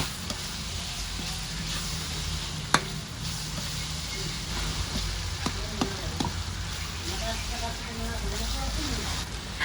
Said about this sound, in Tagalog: At magigisa din ako ng kamatis.